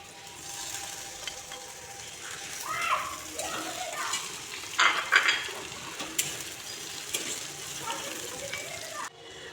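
Onions fry in oil in a pan for a fish and eggplant dish, giving a soft, steady sizzle with scattered pops and a few clinks of utensils against the pan as someone talks over it.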